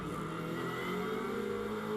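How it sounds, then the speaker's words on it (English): GT racing cars, a Mustang and an Aston Martin from the GT4 ranks, run at Silverstone in the British GT Championship, a steady sustained engine drone at moderate distance, fairly faint and without talk. "Matt Cowley in number 61 Mustang working his way up the GT4 ranks"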